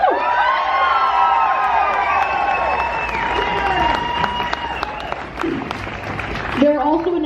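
A large crowd at a March for Our Lives rally in Chico cheers, whoops and applauds for local high schools, a loud sustained roar with shouting voices that eases slightly before a voice speaks near the end.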